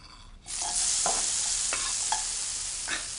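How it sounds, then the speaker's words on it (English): Chopped spring onion, chilli and tomato fry in a pan with a steady, close sizzle, broken by a few soft stirring scrapes and taps. "begin to fry my chopped spring onion, chilli and tomato"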